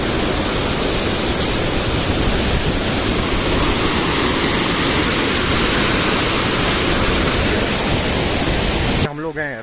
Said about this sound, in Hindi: यहाँ पे एक बढ़िया सा ब्यूटीफुल सा झरना, ये रहा खूबसूरत सा झरना